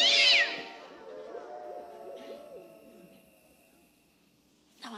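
A comedian's voice imitates a cat meowing at night, a loud, high wailing cry at the start that trails into lower warbling, murmuring tones, then fades out before a brief sound at the end.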